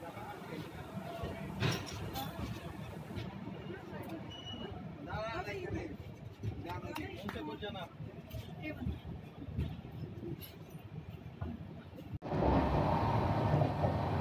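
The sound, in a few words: Saraighat Express train running after departure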